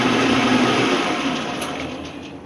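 An Atlas 12 lathe runs on its feed screw with the gear train disengaged, giving a loud, steady mechanical whir with a faint high whine that eases slightly in level toward the end.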